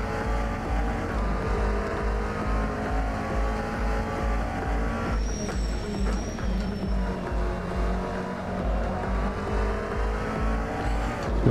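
Nissan and Ferrari race cars in Assetto Corsa at Watkins Glen give off a steady, loud engine drone with a faint tire squeal partway through and no talking.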